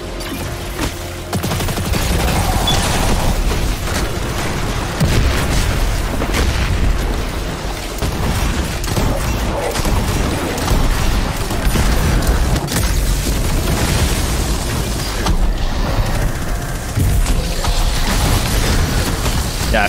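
Dense, continuous gunfire and booming explosions from Destiny 2, in the Operation: Seraph's Shield Legend mission, fill the whole stretch, loud and chaotic with no pauses.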